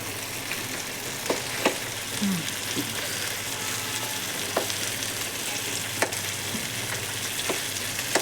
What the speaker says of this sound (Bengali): এবার এই পেঁয়াজ দিয়ে আবার হালকা করে পুরো মাংসটাকে ভেজে নিতে হবে